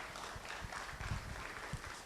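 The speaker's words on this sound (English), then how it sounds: "let's give a round of applause for the US government for that" Audience applause at an IFDC open-door event in Ghana: a steady wash of clapping from a crowd, moderately loud and continuous for the whole stretch with no voices over it.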